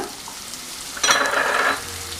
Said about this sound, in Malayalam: സവാള വേഗം വാടാൻ വേണ്ടി നന്നായിട്ടൊന്ന് മിക്സ് ചെയ്ത് ഒന്ന് വഴറ്റിയെടുക്കാം.